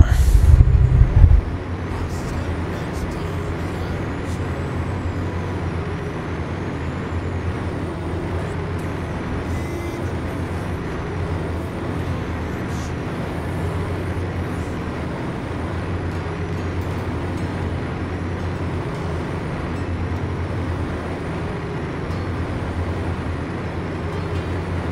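A heavy truck engine drones steadily in a trucking simulator, American Truck Simulator, the pitch gently rising and falling as it climbs and drops through the gears; a loud hiss opens the clip before the steady engine hum continues alone.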